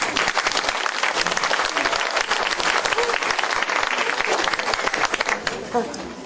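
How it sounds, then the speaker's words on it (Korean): A crowd applauds at the inauguration ceremony of a women's volunteer fire brigade chief, with loud, continuous, dense clapping that tapers off near the end. "힘찬 박수 한번 주세요"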